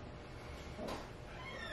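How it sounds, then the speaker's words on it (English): A house cat meows once, a soft, faint call in the middle of a brief, quiet room with steady background hiss and no talking. "my cat just opened the door."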